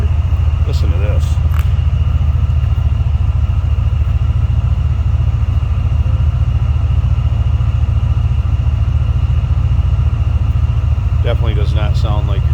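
The engine of a 1994 Chevrolet Caprice Classic 9C1 sedan runs with a loud, steady low rumble that holds throughout, with brief voices over it at the start and the end.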